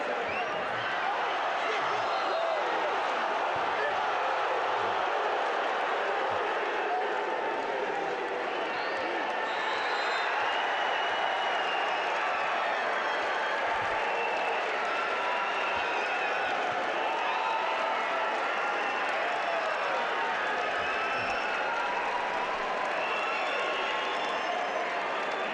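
Big crowd cheering at a high school boys' individual wrestling state finals, Class 2A in Illinois, a sustained broad roar of many voices that holds steady and fairly loud for the whole stretch, with arena murmur underneath.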